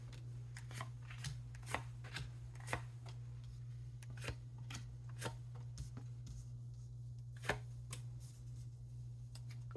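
Tarot cards shuffled and drawn from a deck for a Libra reading, heard as soft, irregular papery flicks and taps close by, with a steady low hum underneath and no talking.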